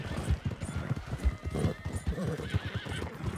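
Horses in Red Dead Redemption II clop their hooves in a quick, uneven rhythm close by and let out a whinny, the sounds fairly soft and layered together.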